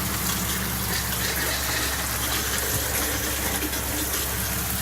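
Water runs steadily from a tap in a converted shuttle-bus RV, a continuous rushing stream, close and fairly loud, with no talking.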